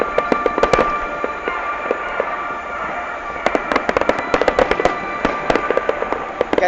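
A Qatar National Day fireworks display sends out rapid clusters of sharp bangs and crackles, with a dense burst early, a short lull, then another long run of loud pops.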